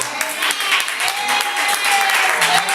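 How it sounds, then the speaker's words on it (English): A church congregation applauds after a morning service, dense steady clapping that fills the room at moderate loudness, with a voice speaking over it. "Let's go ahead and give everybody a round of applause."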